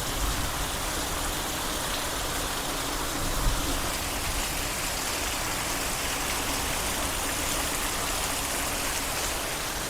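Heavy rain pours down at night in a dense, steady roar of drops spattering on surfaces, loud and unbroken throughout.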